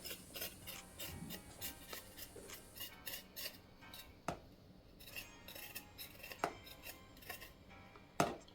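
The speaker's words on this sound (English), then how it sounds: "Yes, so just scraping my ginger." Washed ginger root is scraped with a utensil, making quiet, close rasping strokes in an irregular rhythm with a few sharper clicks.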